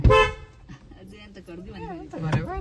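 A car horn gives one short, loud toot right at the start, close by, and then people talk over quiet background noise.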